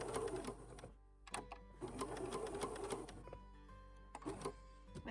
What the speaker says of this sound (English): don't forget to backstitch at the end.